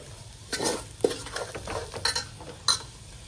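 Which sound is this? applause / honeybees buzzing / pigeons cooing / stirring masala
stirring masala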